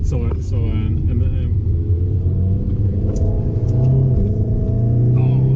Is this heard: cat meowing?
no